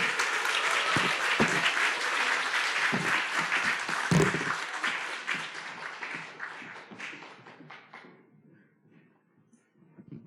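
An audience applauds after a lecture at a business presentation, with dense, loud clapping that thins to a few scattered claps and fades to near silence over about ten seconds.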